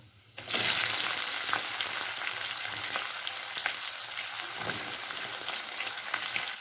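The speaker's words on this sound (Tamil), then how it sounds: "எண்ணெயில் இந்த மசாலா ஐட்டம்லாம் சேர்த்துக்கலாம் பெரிய வெங்காயம் கட் பண்ணி வச்சுருக்கேன் சேர்த்துக்கலாம்" Chopped large onions and whole spices dropped into hot oil for chicken gravy, a sudden loud burst of sizzling that stays strong and continuous, with occasional stirring scrapes and no talk.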